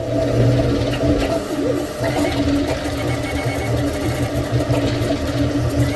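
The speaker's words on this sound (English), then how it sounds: "now it's starting to print the first layer. It's printing very fast, and it prints really nicely" An Anycubic Kobra 3 3D printer laying down its first layer at high speed, a close, steady whirring of stepper motors with rhythmic mechanical chatter and warbling tones, continuous throughout.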